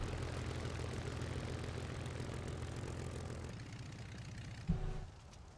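Aircraft engine drone of a damaged plane in a flight simulator game, a steady low propeller-like hum that runs continuously, then a brief thump near the end before it quiets.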